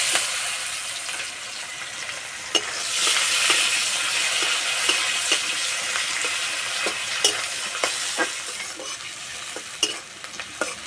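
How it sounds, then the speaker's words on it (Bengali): Chopped onion frying in hot oil with five-spice, bay leaf and dried chilli, a steady close sizzle broken by scattered stirring scrapes and clicks, with no voices. "পেঁয়াজটা হালকা লাল করে ভেজে নেব"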